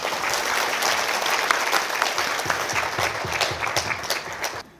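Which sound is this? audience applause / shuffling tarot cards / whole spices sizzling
audience applause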